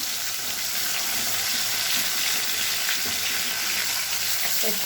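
Steady, dense sizzling of amudi fish frying in hot oil, a continuous crackling hiss that stays fairly loud and even throughout, with no talking.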